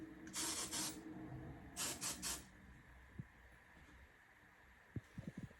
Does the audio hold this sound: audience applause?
no